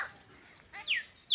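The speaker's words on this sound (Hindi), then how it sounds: "मैं कई किस्म के पक्षियों को एक साथ दिखाने की कोशिश की हूँ" Chickens and other birds at a feeding spot, with a couple of short, bright calls and clucks rising briefly out of a quiet background.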